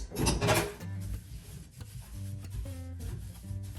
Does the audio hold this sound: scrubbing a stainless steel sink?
yes